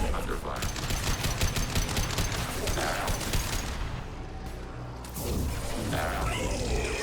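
Gunfire rattles through a firefight in the video game Mass Effect 2, rapid bursts and impacts layered over a dense battle din, with a voice speaking briefly amid the shooting.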